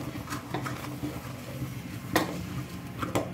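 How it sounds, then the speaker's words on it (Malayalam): Roasted rice flour stirred in a pan over a low flame, with soft scraping and light clinks of the spoon against the pan, steady and close. "ലോ ഫ്ലെയിം ആക്കി വെച്ച് നമുക്ക് നന്നായിട്ടൊന്ന് ഇളക്കി കൊടുക്കാം"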